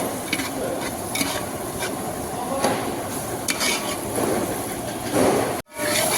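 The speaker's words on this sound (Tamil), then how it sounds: "பாதி வேகிற வரைக்கும் நாம் இதை கிண்டி விட்டுகிட்டே இருக்கணும்." Chopped onions fry and get stirred in a pan for egg masala curry, giving a steady loud sizzle with scraping spoon strokes and light metal clinks throughout, then a brief cutout near the end.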